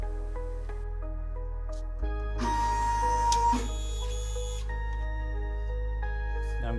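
A vinyl cutter plotter resets, its carriage whirring and moving with a steady motorized hum, a louder mechanical burst in the middle, then settling back to a constant drone.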